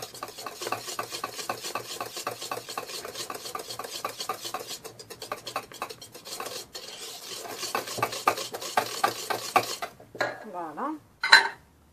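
A whisk or spoon beats oil and vanilla into sponge cake batter in a bowl, a rapid rhythmic scraping and tapping that quickens toward the end, with a few brief clinks.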